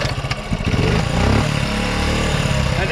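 A 1984 Honda Z50 minibike is kick-started. Its small engine catches and runs loud and close, with choppy early pulses that settle into a steady, rough idle with slight revs.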